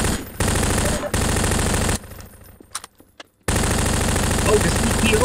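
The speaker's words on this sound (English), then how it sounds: "I'm gonna try and shoot him" Rapid automatic gunfire in the video game Hoppla, loud sustained bursts broken by a brief near-silent gap with scattered small clicks, then continuous firing again.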